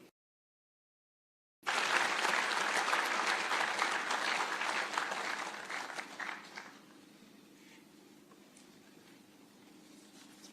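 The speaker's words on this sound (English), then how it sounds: "One more round of applause for the VC." Applause from a large audience at a university graduation ceremony in Nairobi, bursting in after a moment of silence, loud and dense at first, then thinning to lighter scattered clapping and crowd murmur.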